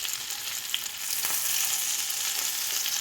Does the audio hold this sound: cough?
no